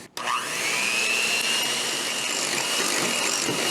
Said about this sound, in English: Okay, so we're going to beat the eggs first.